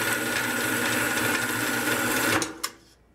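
Harbor Freight 4x6 bandsaw cutting through stock, a steady loud buzzing whine that runs continuously, then cuts off abruptly near the end with a short clack as the piece drops, leaving quiet.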